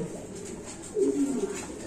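Lahori pigeons at a farm give a low, rolling coo that swells in the middle of a brief stretch, close by over a murmuring background.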